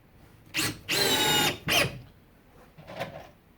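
Makita XFD11 sub-compact cordless drill in high speed mode driving screws into drywall, three short whirring bursts close by, the middle one longest, then a fainter brief buzz.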